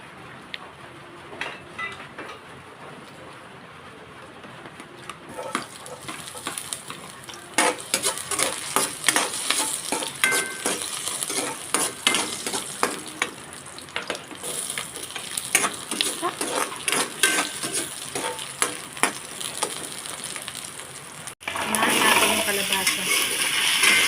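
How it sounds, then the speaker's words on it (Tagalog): Squash and other vegetables with shrimp sauté in a pan, a steady close sizzle with scraping, stirring clinks of a utensil against the pan throughout, briefly louder near the end. "gigisahin muna natin"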